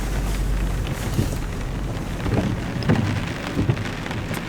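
Heavy rain pouring down outside a camper van on an island near the ocean, a dense steady hiss with soft thumps of drops on the roof, close and continuous, with no voices.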